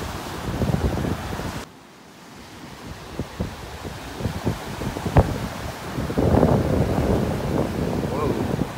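Wind gusting over a beach in North Naples, Florida, buffeting the microphone with loud rumbling bursts that drop briefly to a quieter hiss, with faint surf and rustling behind; someone talks softly in places.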